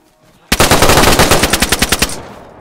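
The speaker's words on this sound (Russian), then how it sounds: "кто-то по вам стреляет?" A loud burst of rapid automatic gunfire from the video game DayZ, roughly a dozen and a half close, sharp shots in quick succession over about a second and a half, then fading away.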